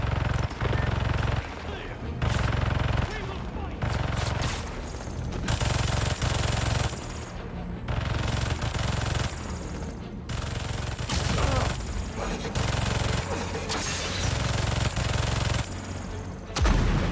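Automated turrets blast away in Marvel's Spider-Man 2 during a Harlem hunter base mission at the Motorpool, loud rapid bursts of gunfire repeating in heavy volleys with deep booming low end across the whole stretch.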